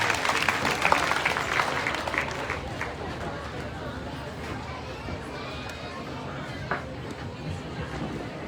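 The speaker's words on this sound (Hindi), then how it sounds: "एक बार तालियों के अभिनंदन से स्वागत करिए" An audience claps to welcome a speaker at a religious discourse gathering in Satna, with dense applause that is strongest at first and then thins to scattered claps amid crowd murmur.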